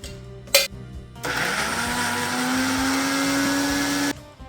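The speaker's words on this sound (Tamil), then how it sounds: "இந்த வறுத்த தேங்காய் பூவை எண்ணெய் பெயர்ந்து வரத்துக்கு தான் அரைச்செடுக்கணும்." Roasted grated coconut whirring in a mixer grinder for Jaffna-style payatham paniyaram, a steady loud motor roar lasting about three seconds after a brief knock, then cutting off abruptly.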